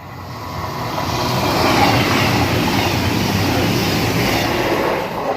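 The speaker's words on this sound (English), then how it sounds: "About to pass by now is a cross-country service from Plymouth to Edinburgh. Super Voyager" A Super Voyager cross-country train runs through Swinton station in South Yorkshire, a loud steady roar of wheels and engine that builds and holds for several seconds, close by and with no voices.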